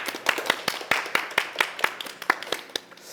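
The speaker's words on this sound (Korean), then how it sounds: "만족하면 박수 한번 주세요" Staff members clap in a loose, uneven rhythm at a company gathering, about a dozen distinct claps, fairly close and moderately loud.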